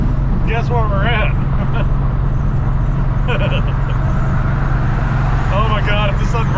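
A truck jolts along rough Birmingham, Alabama roads, its loud, steady low rumble and road roar filling the cabin without a break while people talk over it.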